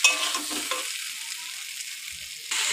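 Spices and vegetables sizzle steadily in a hot pan, a close, continuous crackling hiss with a brief stirring scrape at the start and again near the end.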